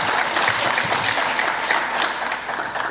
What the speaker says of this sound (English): So I want everybody here to please give yourselves a round of applause,